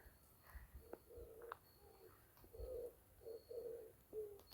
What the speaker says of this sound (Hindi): पेड़ों के बीच से आप एक सुरीली आवाज़ सुन सकते हैं, शायद घूमती की है